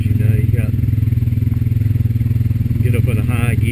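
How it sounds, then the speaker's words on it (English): A Honda Rancher 420AT ATV engine cruises steadily in high gear, a close, even mid-pitched drone with a fast regular pulse and light clatter throughout, unbroken and without labouring. "You get up in a high gear and the engine's not laboring."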